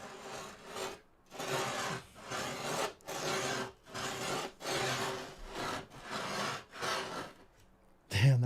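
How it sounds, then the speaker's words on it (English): Skateboard deck edge ground down with a metal truck, a run of rough, raspy scraping strokes repeated about eight times in steady rhythm with short gaps, close and fairly loud, ending in a brief knock. "I could fucking grind the edge with a truck"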